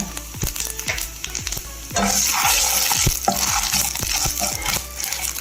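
Chana dal, urad dal and cumin seeds frying in hot oil, a constant crackling sizzle with rapid popping spurts and frequent utensil scrapes and knocks against the pan, growing more intense midway.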